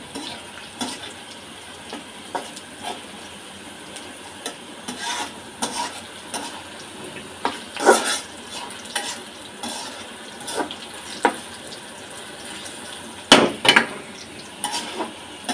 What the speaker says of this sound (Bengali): সে পর্যন্ত চুলায় ভাজা হবে পেঁয়াজ